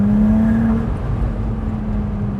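Ferrari 296 GTS engine, a 2024 model, droning loud and close in a steady mechanical tone that holds at a high pitch, then settles back slightly, with no talking over it.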